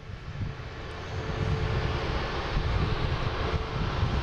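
Alaska Airlines Boeing 737 MAX 9 jet, flight 389, at Boston Logan International Airport, its engines producing a steady distant roar that swells slightly, with wind noise on the microphone.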